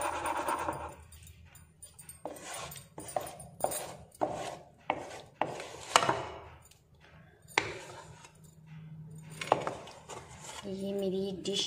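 Mutton karahi being served out of a cooking pot into a dish, with utensils scraping and clinking against metal in a series of irregular knocks and taps, fairly close, among faint kitchen background noise.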